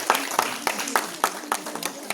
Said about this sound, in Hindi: मैडम तालियों की गड़गड़ाहट के साथ स्वागत करें।